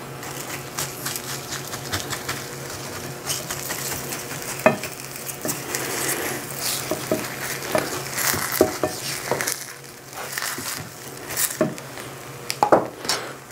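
Western-style omelet cooking in a carbon steel, aluminum-clad pan: a steady close sizzle with scattered scrapes and light metallic clinks of a utensil against the pan, including a sharper knock or two near the middle and end.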